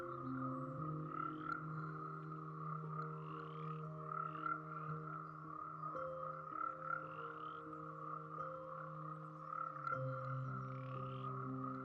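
Frogs croak in a tropical rainforest, a dense layered chorus of steady calls and pulsing croaks that carries on continuously and evenly without a break.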